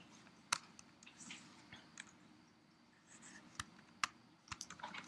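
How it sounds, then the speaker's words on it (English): Typing on a computer keyboard while building an HTML link, sharp isolated key clicks scattered irregularly over a quiet room, with a denser burst of taps near the end. "Can't type and talk at the same time."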